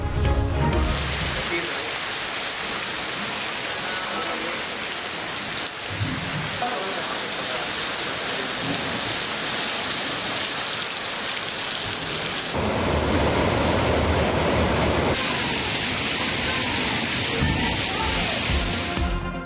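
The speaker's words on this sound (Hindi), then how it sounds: "रावलपिंडी, इस्लामाबाद में मूसलाधार बारिश के साथ यालाबारी।" Heavy downpour in Rawalpindi and Islamabad, a dense, steady roar of rain lasting throughout, with a louder, brighter wash near the end and no voices over it.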